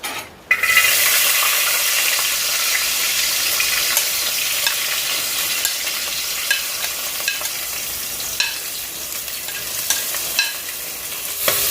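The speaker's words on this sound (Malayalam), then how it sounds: "ഇഞ്ചി, പച്ചമുളകും ചേർത്ത് കൊടുക്കാം." Garlic, ginger and green chili frying in hot oil for mango pickle, a continuous bright sizzle close by with occasional scraping stirs and spoon clicks, no talk.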